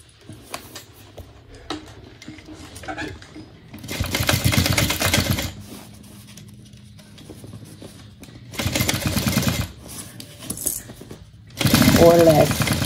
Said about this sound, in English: Going to sew that closed 1/8 of an inch.